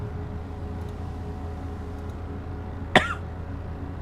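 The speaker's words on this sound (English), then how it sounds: "Sorry about that, I have a cough." A single sharp cough bursts out near the close-mic over quiet background hum, then fades back to near silence.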